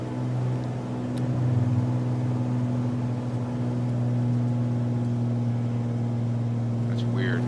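Aircraft engine idling at zero throttle in Microsoft Flight Simulator 2020, a steady low drone with strong sustained tones that holds evenly throughout and stays loud and constant with no change in pitch.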